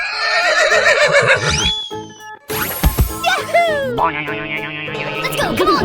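A horse in a 3D animal video game neighs loudly: a close, high, wavering whinny, followed by springy, jingling game effects and more tonal whinnying.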